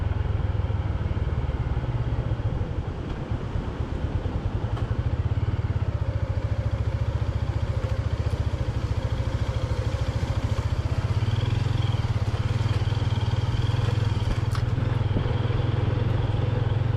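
A motorcycle rides over a stony road broken by flood damage, its engine droning steadily and loudly up close with rattling clatter from the rough surface throughout.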